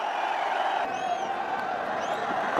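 A cricket stadium crowd at an India versus Australia one-day international roars steadily for a Shikhar Dhawan shot, a broad sustained wash of cheering with a few whistles rising above it.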